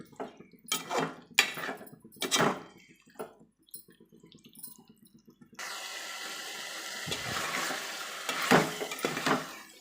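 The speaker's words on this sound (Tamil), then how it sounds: "ஒரு 5 நிமிஷம் நல்லா சிக்கனை இப்படியே இதிலே வதக்கி வேக விட்டு எடுத்துக்கலாம்" Chicken for pepper chicken fry is stirred in a pan, with sharp metal spatula scrapes and clatters, then a steady loud sizzle of frying with more scraping strokes.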